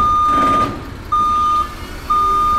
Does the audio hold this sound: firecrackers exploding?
no